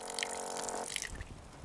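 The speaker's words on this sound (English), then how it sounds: "But now I've got some running water." Water runs from a 5-gallon jug on a Jeep Cherokee overland camping setup, a short close trickle and splash that thins after a brief moment, heard alone with no voices.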